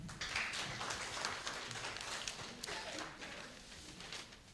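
An audience at a judicial training session in a hotel claps for a presenter, a faint, fairly distant patter of many hands that fades a little toward the end.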